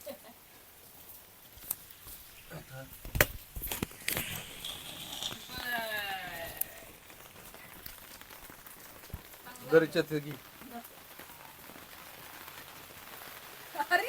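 Rain patters steadily on a surface while people talk intermittently over it, with scattered sharper drips and taps.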